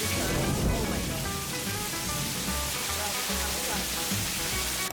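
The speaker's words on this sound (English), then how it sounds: "Heavy rain, strong wind, dark clouds everywhere" A sudden storm over the coast at Khao Lak brings heavy rain and strong wind: a dense, unbroken roar of rainfall with low gusting rumbles underneath.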